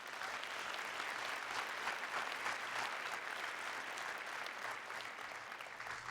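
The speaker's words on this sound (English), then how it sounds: "Please give them a round of applause." A school audience applauds its leadership team at an award event, a sustained, even wash of clapping from a sizable crowd, moderately distant.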